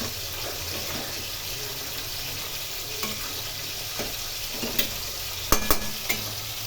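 Cabbage frying in a pan while being stirred: a steady low sizzle runs throughout, with occasional soft scrapes and clinks of the utensil against the pan, louder toward the end.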